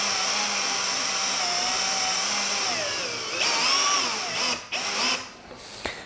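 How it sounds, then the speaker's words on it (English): A power drill whines steadily as it drives a bolt through the mounting hole in a bird feeder. The motor pitch rises and dips under load, then there are brief stops and a final clunk. "I'm going to use a drill and the bolt and just pass it through nice and easily."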